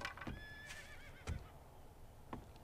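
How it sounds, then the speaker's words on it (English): A horse in the video game 7 Days to Die whinnies once with a clear rising and falling neigh, between a few soft hoof clops, nearby and quiet. "Ah, horsey."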